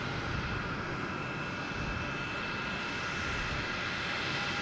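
A JetBlue A320 airliner arriving at Boston Logan from Nashville makes a steady, distant jet roar with a faint high whine, unbroken and without speech.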